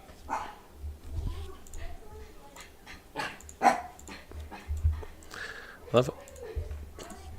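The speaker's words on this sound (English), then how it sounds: "the dog has to just run in here and bark a little bit" A dog barks indoors in short, sharp bursts scattered through the stretch, loud and close at moments, with people talking over the top of it.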